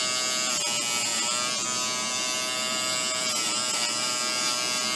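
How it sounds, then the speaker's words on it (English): Electric clippers shaving the hair from a puppy's paw pads, a loud continuous buzzing whine held steady for several seconds with slight wavers as the blades move, close and without talk. "shave all the hair on all the pads of their foot"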